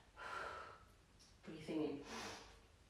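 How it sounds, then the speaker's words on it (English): Slow breathing during a guided calming exercise, one long exhale followed by an inhale, soft and close, with a brief pause between the two breaths. "you breathe out as you turn to the right, and then you breathe in as you turn to the left"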